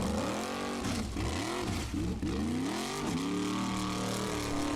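Formula Offroad car engine revving hard while turning at an Icelandic off-road competition in Egilsstadir, loud and sustained with rising and falling revs swooping up and down, heard alone without talk.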